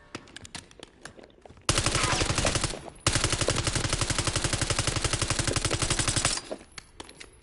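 Rapid automatic gunfire in a Black Ops 6 Zombies game, loud and close, firing two long sustained bursts with a brief gap between them, framed by scattered single shots and clatter.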